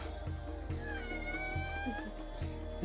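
A cat meows repeatedly in a quiet home kitchen, the calls close and clear, rising and falling over a low steady hum.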